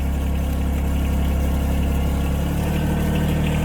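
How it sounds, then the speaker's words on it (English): Diesel engine of a Rhino XN12 plant machine running loud and close, holding a steady idle before the revs rise slightly toward the end. "I'll just bring the revs up a little bit,"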